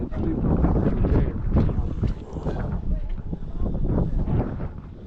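Strong outdoor wind buffets the microphone in loud, uneven low rumbles and gusts, with muffled voices talking underneath.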